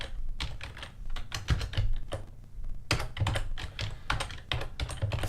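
Rapid typing on a computer keyboard, a steady stream of close, crisp key clicks with brief pauses, over a low background hum.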